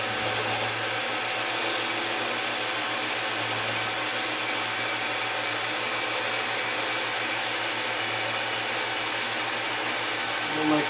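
A pantograph engraving machine runs with a steady, even whir at moderate loudness, close by and unbroken throughout, with a faint higher tick near the start.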